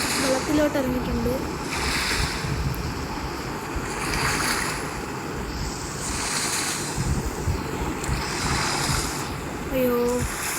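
Waves wash and roll against the shore in the survival video game ARK: Survival Evolved, a steady surging hiss of water with gusty wind noise, swelling and easing in slow cycles.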